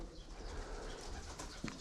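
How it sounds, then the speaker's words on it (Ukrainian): Pigeons flutter and shuffle in a large echoing hangar, with soft wingbeats and a brief flurry of flapping near the end over steady room noise. "Голуби літають"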